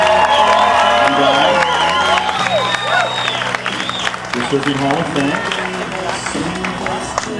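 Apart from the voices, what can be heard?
crowd applause and cheering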